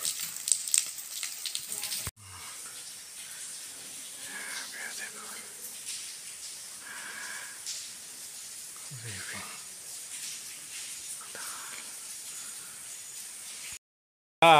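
Steady fine patter of water dripping and trickling inside Rawis Cave in Basey, Samar, a soft continuous rain-like hiss with a few louder drops.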